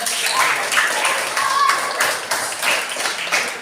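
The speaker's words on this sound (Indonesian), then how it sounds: "Tepuk tangan semuanya." A group of schoolchildren in a classroom clapping together in a quick, steady rhythm, loud and close, with some voices mixed in.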